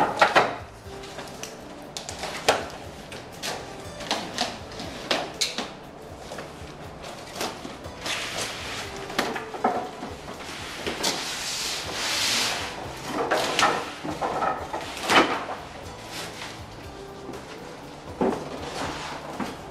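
Wooden log bunk bed pieces for a Northwoods twin/twin set are unpacked from boxes, producing irregular knocks, rubs, scrapes and cardboard rustling at close range, with quieter pauses between the handling sounds.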